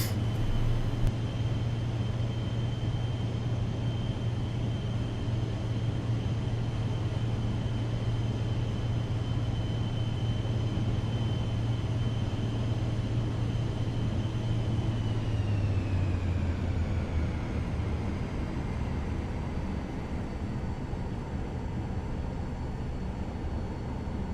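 A Vision Jet in MSFS 2024 rolls down a long runway, its steady engine rumble droning loud and constant, with a low hum that fades and a whine that dips near the end.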